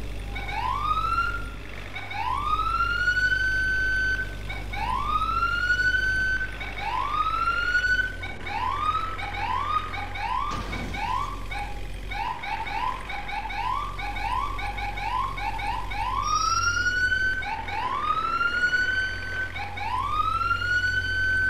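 A fire truck siren in the EmergeNYC firefighting video game, loud and close, sweeping up in repeated rising wails with a faster yelping stretch in the middle, over a low engine drone.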